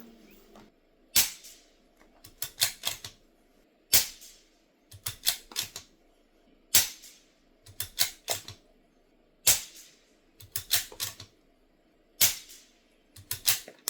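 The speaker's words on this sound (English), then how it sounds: "We're going to shoot another 5 group of those CCI subsonics." Five CCI subsonic .22 LR rifle rounds fire as sharp, modest cracks at even intervals, each followed by a quick run of metallic bolt clicks, heard close in a quiet outdoor setting.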